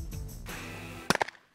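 Shotgun blasts fired at a clay target during a shooting competition, two sharp close reports in quick succession cutting through a low steady background rumble, then fading to quiet.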